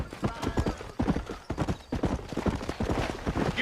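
Horse hooves clip-clop steadily in the Red Dead Redemption game on Xbox 360, a brisk, close, rhythmic trot that carries on throughout with brief gaps.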